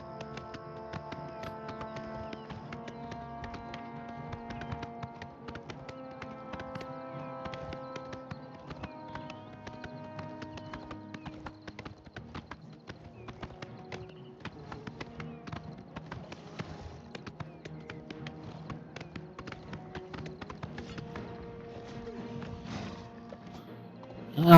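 In the video game Oblivion Remastered, a horse gallops with a rapid, steady stream of hoofbeat clicks over sustained background game music, moderately quiet throughout, with a sudden louder burst at the very end.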